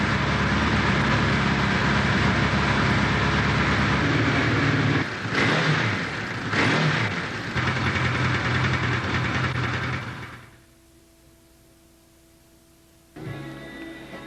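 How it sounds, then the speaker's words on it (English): A four-cylinder motorcycle engine runs loud and close, its roar dipping briefly a couple of times before cutting off to near silence. "there's just something about the sound of a 4-cylinder bike"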